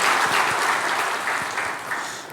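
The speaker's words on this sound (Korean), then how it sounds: "박수 한번 칩시다." A church congregation claps after the choir's hymn, a dense round of applause filling the room and tapering off slightly toward the end.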